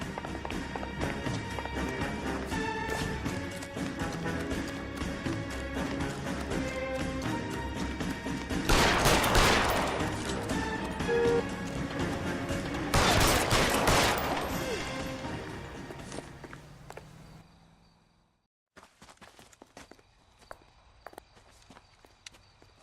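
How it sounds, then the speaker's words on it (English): Gunfire in L.A. Noire: sustained rattling shots run through a busy stretch, with two heavy bursts standing out. The din then cuts off abruptly, leaving sparse faint sounds. "Shoot him, for God's sake."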